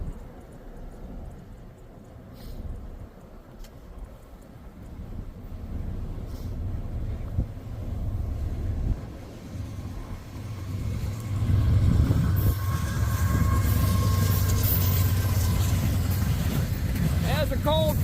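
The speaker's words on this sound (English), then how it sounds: "There's a coal train." A coal train rolls past the Cross Diamonds crossing in Elyria, Ohio, on a cold day: a deep rumble builds from afar to a loud, sustained roar of wheels and engine, with a person talking faintly at the start.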